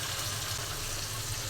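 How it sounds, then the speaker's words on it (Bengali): Rohu fish frying in oil: a dense, constant sizzling hiss, close and fairly loud, with no talk. "মাছটা ভাজা হোক, এদিকে মশলাও কষিয়ে নিলাম।"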